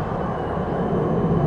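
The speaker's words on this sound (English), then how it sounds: "D2-class tram." A Melbourne D2-class tram passing in the city centre, a steady, loud broadband rumble and rolling rail noise, close by and without speech.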